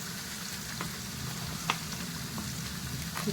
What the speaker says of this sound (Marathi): मसाला छान तेलात भाजून द्यायचा